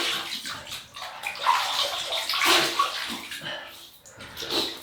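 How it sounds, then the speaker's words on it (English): Warm water splashed by hand onto the face as a pre-shave wetting, heard as close, continuous sloshing and dripping with uneven surges, no voices over it. "we're just going to wet the face, warm water as a pre-shave"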